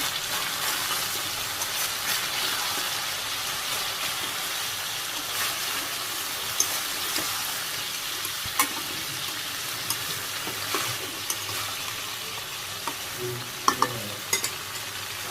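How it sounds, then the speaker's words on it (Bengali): Desi rooster meat being slowly sautéed and stirred in a pan in a Bangladeshi village kitchen, a continuous soft sizzle with scattered clicks and scrapes of a spoon, growing busier near the end, without speech. "আস্তে আস্তে কষাই দিচ্ছি সময় লাগবে নাড়া করা দিয়ে দিচ্ছি কষাই দিচ্ছি মাংস কষাই দেওয়া"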